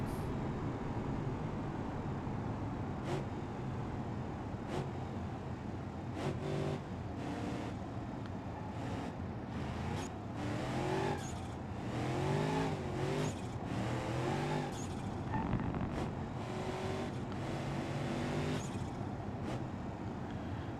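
A Roxon car driven fast in BeamNG.drive, its engine droning steadily and revving up and down with rising and falling pitch sweeps, loud and continuous throughout with no talking.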